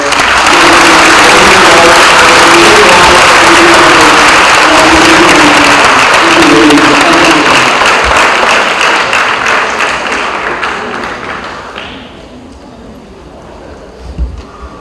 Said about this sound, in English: I want all of you to give them a round of applause.